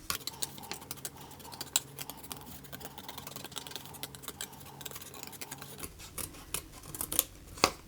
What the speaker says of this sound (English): you can just use a tiny pair of scissors to cut it out